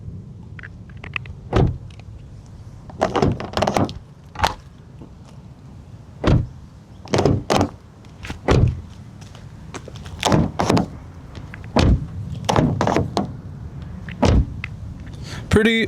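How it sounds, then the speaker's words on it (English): Hyundai i30 N car doors open and shut repeatedly, heavy thunks and latch clicks spaced through the clip, with a few brief murmurs of talk between them. "Let's just see how the doors sound."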